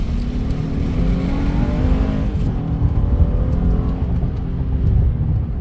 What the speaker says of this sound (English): Let's go and floor it real quick and just see how fast this goes.